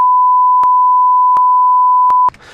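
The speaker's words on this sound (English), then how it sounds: "Whatever was said over that long beep" A long, steady, loud censor beep, a pure tone held for over two seconds, briefly interrupted by faint clicks, then cutting off into quiet background noise.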